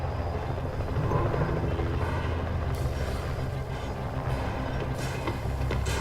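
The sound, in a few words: drone moving in a video game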